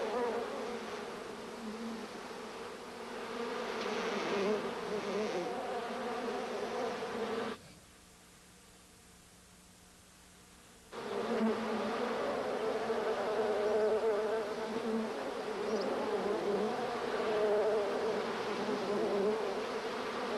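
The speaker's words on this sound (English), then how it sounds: "Let's take a look here now of the footage of Mary fighting these bees." Dense, loud buzzing of many bees in a television talk show clip, continuous and droning, dropping out abruptly for a few seconds midway before resuming at full strength.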